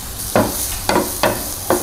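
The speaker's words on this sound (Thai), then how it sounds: "ผัดแบบเดียวกันเลยค่ะผัดเร็วๆเนยนิดนึ" Mushrooms stir-fried quickly in butter in a pan, four sharp scraping strokes of the utensil at an even pace over a soft, constant sizzle.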